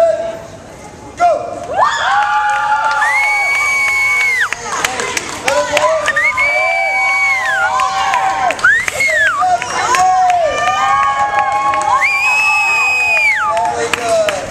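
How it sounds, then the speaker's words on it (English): A crowd, many of them children, screams and cheers loudly at a live stunt show in Burlington, Vermont, sustained shrill shouting in repeated swells with some clapping mixed in. "Pop and cheer as loud as you possibly can."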